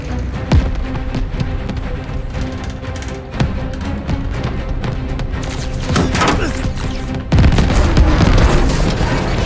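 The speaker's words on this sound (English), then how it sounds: "Watch that tracer fire!" Anti-aircraft tracer fire in Call of Duty: Vanguard bursts around a bomber run, dense booming thuds and crackling explosions over a constant loud roar of aircraft engines.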